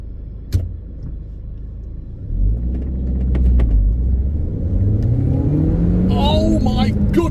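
An Audi TT Mk1 accelerates hard from a standing start, the engine note rising steadily in pitch as it revs toward redline, loud and close from inside the car, with a gear change near the end.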